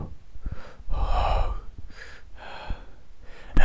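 A voice imitates deep, heavy breathing in three or four drawn-out, raspy breaths separated by short pauses, close and fairly loud.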